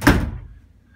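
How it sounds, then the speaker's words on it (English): A closet door swings shut with a single solid thunk close by, then its short low rumble fades into quiet. "Let's see if I can shut this door and back up a little bit."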